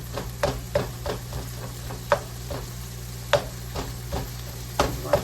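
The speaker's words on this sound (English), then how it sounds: "We want them to brown, not boil. You know what I mean? So I'm just gonna break them up" Plant-based sausage, still partly frozen, sizzles in a pan while a utensil breaks it up, giving a steady close frying hiss punctuated by regular scraping and tapping strokes roughly every half second.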